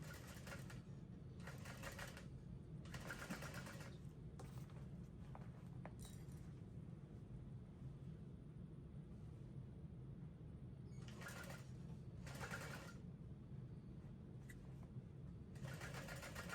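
A sewing machine stitches a 1/4 inch seam on a handbag at a 4.5 stitch length in several short, quiet whirring bursts, with pauses between the runs.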